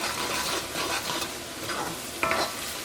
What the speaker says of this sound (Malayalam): ഇപ്പോൾ ഇഞ്ചിയും വെളുത്തുള്ളിയും പച്ചമുളകൊക്കെയും ചെറുതായിട്ടൊന്ന് മുരിഞ്ഞു തുടങ്ങിയിട്ടുണ്ട്.